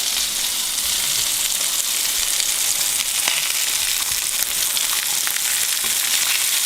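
French toast frying in a hot pan, a steady close sizzle running throughout with a few faint scrapes and taps as the slices are flipped, no talking.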